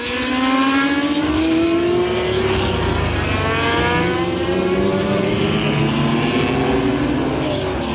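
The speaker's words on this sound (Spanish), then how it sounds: "El sonido de estos coches, la verdad es que es inigualable" Loud engines of vintage race cars at Le Mans Classic roar past, their pitch rising and sweeping as they accelerate by, several overlapping in a continuous howl.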